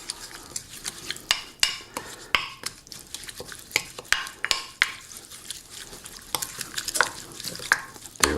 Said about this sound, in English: Now let's stir that all up.